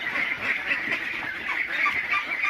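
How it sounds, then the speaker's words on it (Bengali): Many Khaki Campbell ducklings, about a month and a half old, quack and peep all at once, a constant busy chorus close to the listener. "এই হাঁসের বাচ্চাগুলোর জাত হচ্ছে খাকি ক্যাম্বেল।"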